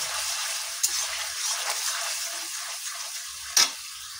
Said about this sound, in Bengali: তো চলো আপাতত মশলাগুলো দেওয়া যাক। তো দেখো এখানে কিন্তু দিয়ে দিয়েছি আমি মশলাটাকে বেশ ভালো করে কষাবো।